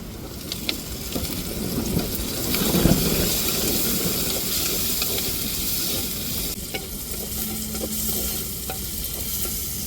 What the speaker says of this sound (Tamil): வெங்காயம் நல்லா வதங்கி வந்துருச்சு இப்போ நம்ம தக்காளி மிளகாயவும் சேர்த்துக்கிடுவோம்